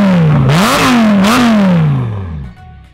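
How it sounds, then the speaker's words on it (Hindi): A Lamborghini supercar with a loud custom exhaust revs hard, its engine note climbing and dipping in two sharp blips before settling into a falling, fading tone, very loud and close with no talk. "एग्जॉस्ट बहुत लाउड है इसके।"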